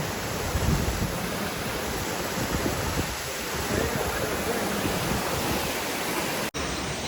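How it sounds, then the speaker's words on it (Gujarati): Water pouring out of a cave during a jungle trek near Pavagadh, a dense, steady rushing roar close by that fills the whole stretch, with a brief dropout near the end. "તમે જોઈ શકો છો અંદર કેવું પાણી આવે છે ખાલી"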